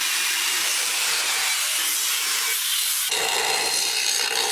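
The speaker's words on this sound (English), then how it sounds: "Use a hand cutter to cut the metal along the drawn line" Scrap metal being cut with a hand cutter, a continuous loud hissing rasp that holds steady and then shifts in tone partway through, with no voices.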